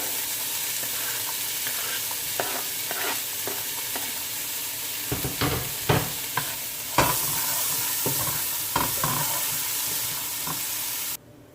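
Pepper, garlic and onion sauté in a pan on a low stove with a steady, even sizzle and repeated scrapes and knocks of stirring, close and continuous.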